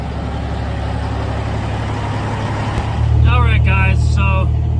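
A Ford Ranger pickup truck driving with a steady engine and road rumble that rises a little partway through, while someone talks over the drone.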